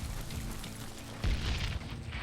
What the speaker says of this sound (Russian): Динамит!